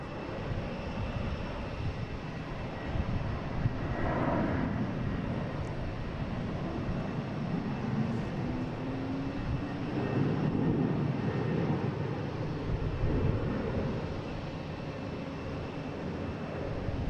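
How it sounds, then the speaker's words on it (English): An American Airlines jet taking off from Boston Logan bound for LaGuardia, a long, broad roar at moderate distance that swells around the middle and then gradually fades, with no talking. "we have an American Airlines taking off to LaGuardia"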